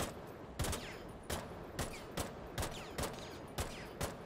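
Single shots from a muzzle-braked gun in Rainbow Six Siege fire at a steady pace, roughly seven sharp cracks about half a second apart, each with a short ringing tail.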